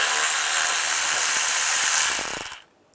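A hand ratchet fitted with a 10mm socket backs bolts out of a Toyota Corolla, giving a close, steady run of rapid clicking that stops abruptly at the end.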